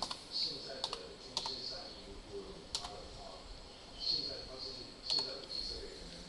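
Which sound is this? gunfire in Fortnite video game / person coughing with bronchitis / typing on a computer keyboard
typing on a computer keyboard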